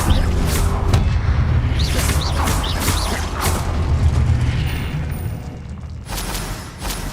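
A Confringo spell goes off in Hogwarts Legacy as a deep booming blast followed by rumbling crashes and crackling debris, loud and close, fading over several seconds.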